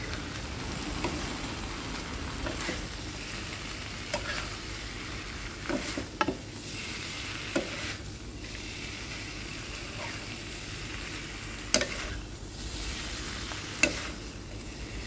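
Beef tongue and pineapple stir-fry in a pan, a steady sizzle broken by scattered scraping clicks of a spatula stirring, with no voices.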